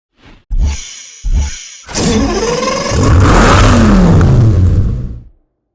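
Dodge Viper with a large engine in the Need for Speed Hot Pursuit racing game: two short sharp throttle blips, then a loud sustained rev that rises and falls before cutting off, heard alone.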